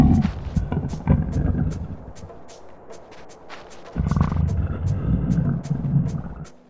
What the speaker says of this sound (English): his stomach rumbles, which sounds like this.